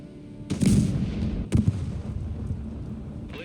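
A Leopard tank fires in the Broken Arrow strategy game, giving two sharp, heavy booms about a second apart. Each boom rolls into a low rumble, and a fainter crack comes near the end.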